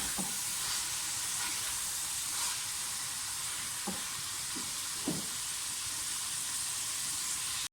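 Chicken sizzles steadily in a karahi, a black pepper chicken karahi being browned, with a constant close hiss of frying and a few soft stirring knocks along the way.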